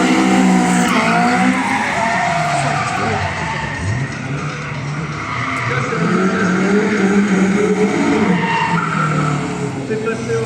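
A Toyota 86 skidding around a race track, tires squealing in long sustained wails over engine drone, loud and continuous, with indistinct voices mixed in.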